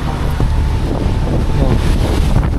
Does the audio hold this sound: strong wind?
yes